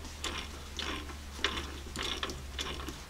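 An 11/16 socket on a ratchet wrench tightens lift hardware on a 1978 Jeep J10, giving several short bursts of rapid pawl clicking at a steady back-and-forth rhythm, close up over a low hum, with no talking.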